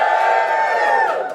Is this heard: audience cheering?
yes